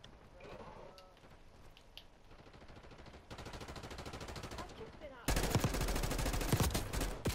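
Gunfire in the Black Ops 6 video game: rapid, dense bursts of shots that build steadily louder and end in a sustained, close, heavy stretch of fire, with faint voices underneath.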